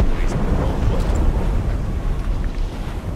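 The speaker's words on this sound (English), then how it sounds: "Cannon fire." Ship cannon fire in Assassin's Creed Rogue, heard from within fog as a dense, low rumbling roar of booms blending together, steady and loud throughout.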